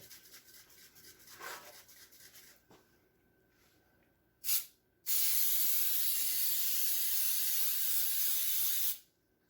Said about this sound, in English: I'm going to spray this pan with some Pam baking spray